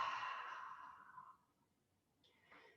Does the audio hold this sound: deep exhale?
yes